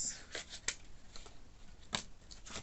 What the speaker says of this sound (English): let me just finish shuffling so I've got the right card on the bottom of the deck